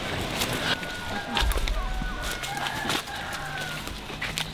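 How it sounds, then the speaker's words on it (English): Chickens clucking and calling around a rural village on a hiking route, scattered bird calls over steady outdoor ambience with some low rumble, at moderate distance. "always follow the chicken noises"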